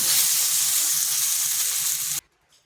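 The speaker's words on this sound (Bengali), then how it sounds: "আলু পটলকে বেশ কিছুক্ষণ ভেজে নিয়েছি" Potatoes and pointed gourd fry in a pan with a loud, dense sizzle that runs steadily and then cuts off abruptly near the end, leaving near silence.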